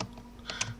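Fingers tapping a computer keyboard in a handful of quick keystrokes, close and clear, with no talk over them.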